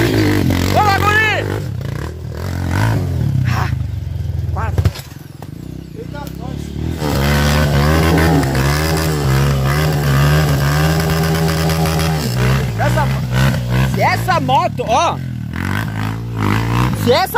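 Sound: off-road motorcycle on rocky trail

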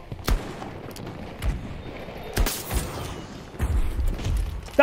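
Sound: sniper rifle shots in video game Battlefield 2042

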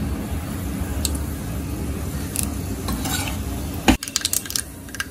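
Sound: mustard seeds and urad dal spluttering in hot oil

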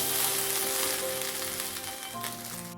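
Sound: stirring peas pulao with ghee in a pan

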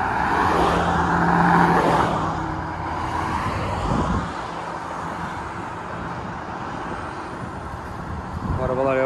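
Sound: cars on the road near a gas station

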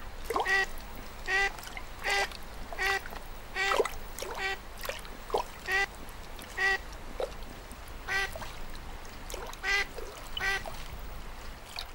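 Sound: wild ducks on a High Tatras lake

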